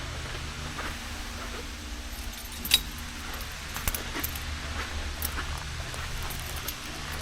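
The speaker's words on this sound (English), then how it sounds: "Hopefully this is the right key, because I got a bunch of keys on here" A bunch of keys jangles faintly near the trunk of a 1972 Oldsmobile Cutlass convertible, with scattered light metallic clinks over a low steady background.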